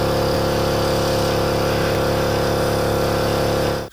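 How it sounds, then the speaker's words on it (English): Garage air compressor running steadily and loud with a dense mechanical drone and a broad hiss from an air leak, continuous and close, cutting off abruptly at the very end. "Compressor's ready, though it clearly has an air leak somewhere."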